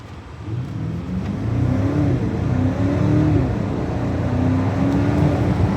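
A 2026 BMW X7 M60i accelerates hard in sprint mode, its engine a steady rising hum heard from inside the cabin, loud and continuous with no talking.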